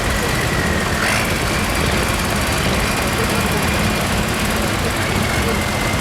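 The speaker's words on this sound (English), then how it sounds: "Lovely little tractor." A vintage British tractor from the 1970s, shown in the arena parade at a spring fayre, runs with a steady, loud, droning engine note that stays constant throughout.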